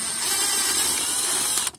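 A ratchet wrench turns out a bolt from a car's center console, a steady close buzzing clicking of the pawl running continuously for under two seconds before stopping, with no talk.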